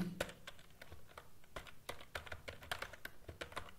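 Typing on a computer keyboard, a quiet, close patter of uneven clicks and key taps going on without a break, with no talking over it.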